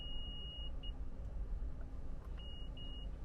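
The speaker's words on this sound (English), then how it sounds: "You heard that 2 beeps?" Two short electronic beeps from a Lexus RX navigation settings unit sound in quick succession, then two more clear tones a moment later, over a steady low car-interior hum.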